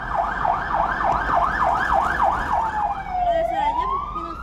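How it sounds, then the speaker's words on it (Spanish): A Red Cross ambulance siren in Mexico City traffic wails in quick, regular up-and-down cycles, loud and close, then slows into a long falling and rising sweep over road noise. "el operador de la ambulancia, Gustavo Serna, se abría paso por el tráfico, carriles de contraflujo y del metrobús"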